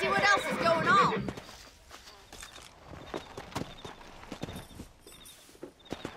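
Horses gallop in the Red Dead Redemption western video game, with a steady run of hoof clip-clops under voices and game ambience. Louder talk opens the passage before the hoofbeats carry on.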